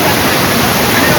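A waterfall near the ancient Buddhist rock-cut caves at Kondhane, near Karjat, in monsoon rain gives a loud, steady, close roar of falling water that fills the whole short stretch without a break.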